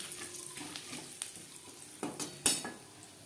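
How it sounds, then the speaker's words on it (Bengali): A bay leaf and five-spice tempering fry in hot oil in a wok that was used for frying fish, a soft steady sizzle broken by a few clinks of a spoon and a sharp metallic tap. "ফোড়নে দিয়ে দিলাম একটা তেজপাতা, 5 ফোড়ন।"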